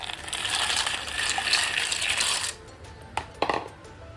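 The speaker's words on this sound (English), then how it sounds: "We have to boil these pasta in water. So I am taking this much of water for" Water poured from a vessel into a cooking pot for boiling pasta, a steady splashing gush for about two and a half seconds, then a few short drips and clinks, close and fairly loud with no talking.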